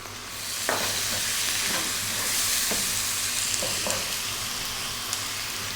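Ginger garlic paste sizzling in a pan for dal, a bright continuous fry hiss broken by several scraping stirs of a utensil.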